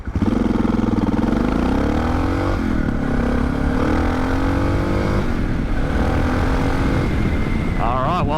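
A Suzuki DR650 single-cylinder 650cc motorcycle with a rejetted carburetor and opened-up exhaust pulls away from a stop. The engine note climbs steadily through the gears, loud and close, with a brief shift midway.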